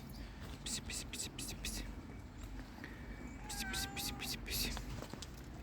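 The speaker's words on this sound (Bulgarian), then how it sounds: "Цветна котка." A tricolour cat with grey on its back meows several times in front of an apartment block. The calls are faint and come in a quick run early on, then again in a longer, wavering series, under soft whispered talk.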